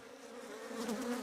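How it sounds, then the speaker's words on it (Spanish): Bees buzzing steadily at a hive during work to extract wax, a close, continuous insect drone that swells slightly louder toward the end of the short stretch. "Voy a sacar a las abejas que se han quedado."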